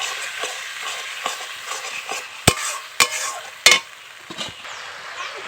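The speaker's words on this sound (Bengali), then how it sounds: "এতে মশলাটা খুব সুন্দর কষানো হয়।" Spice masala for a crab curry being stir-fried in a pan with a splash of water, a soft steady sizzle broken by several sharp scraping clacks of the spoon against the pan, close up and without talk.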